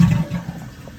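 A toilet flushes after a fill valve replacement, with a loud rushing gush at the start that fades into softer, steady water flow as it begins to refill.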